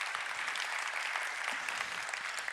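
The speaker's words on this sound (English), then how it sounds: "Can we give a huge round of applause to them for this incredible event?" Conference audience gives a sustained round of applause, a quiet, far-off even patter of many hands with no talk over it.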